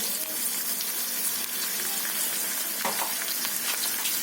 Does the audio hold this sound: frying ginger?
yes